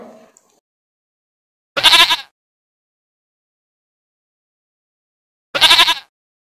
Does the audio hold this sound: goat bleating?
yes